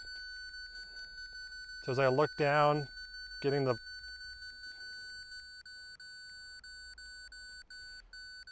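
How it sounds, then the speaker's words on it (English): A faint, steady high-pitched electronic beeping tone from a Capto EZ digital level persists throughout, while someone speaks briefly partway through. "You can hear it's beeping."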